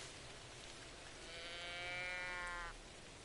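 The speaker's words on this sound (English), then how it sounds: "I knew it wouldn't be long until we get caught in the rain." Rain falls steadily in the hunting video game theHunter: Call of the Wild, a soft constant hiss, with one drawn-out tonal animal call rising and fading midway.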